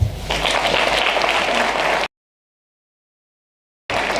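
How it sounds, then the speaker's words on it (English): Audience clapping hands at a science program launch, a loud burst of many hands applauding for about two seconds before cutting to silence, then resuming briefly. "Let's clap hands for that."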